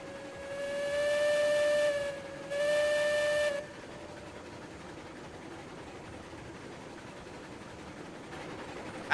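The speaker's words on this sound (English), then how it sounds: "I actually like the sound of this train's whistle." A steam train whistle in the video game Railroads Online sounds two loud, tonal blasts, one long and one shorter, then quiet hissing and faint rumble follow.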